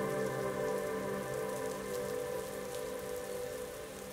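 Steady rain falls and patters on a surface, a dense continuous hiss with scattered drops, alone and even throughout.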